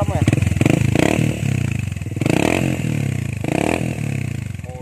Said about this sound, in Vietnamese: máy nổ này rất khỏe, cái bô nổ rất là hay nha, thoáng lắm nha